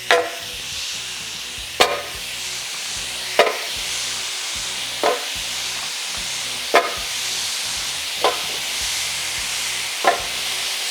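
Sixteen burgers frying on a Ninja Sizzle griddle give a steady close hiss and sizzle, broken by seven sharp scraping clicks at regular intervals about every one and a half seconds.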